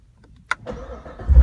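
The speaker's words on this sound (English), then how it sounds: "the car starts coming to life." A Corvette engine starts at the push of a start button: a sharp click, then a brief cranking whir and a rising, loud rumble as the engine catches, close by.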